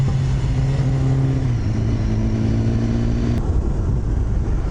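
A vehicle engine runs steadily up close, a loud continuous rumble with a slight shift in pitch partway through.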